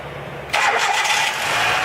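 A 2010 Hyundai Accent engine cranks and catches at once, a brief starter whir giving way to a steady, fairly loud idle that settles a moment later, with no talk over it.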